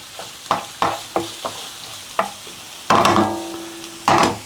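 Fish with garlic and chili stir-fried in a hot pan, sharp bursts of sizzling and scraping stirs, several short hits then two longer loud sizzles, close and without talk.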